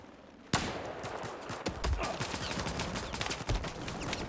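Enemy gunfire rattles in a shooter video game, a dense burst of shots starting abruptly and continuing fast and loud with scattered sharper cracks, no talk.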